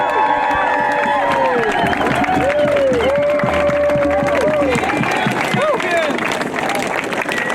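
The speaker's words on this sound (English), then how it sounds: "Give yourselves a massive round of applause." A crowd at an Extinction Rebellion protest on Rebellion Day Two in November 2018 bursts into sustained applause and cheering, dense clapping with whoops and shouted voices, steady and loud throughout.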